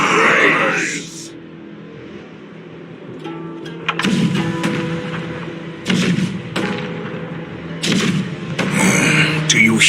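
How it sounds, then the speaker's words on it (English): Heavy booming blasts and deep rumbling thuds arrive in several bursts over a low sustained roar, loud and close, like cannon fire on a battlefield, in Honkai: Star Rail. "The rumble of the cannons."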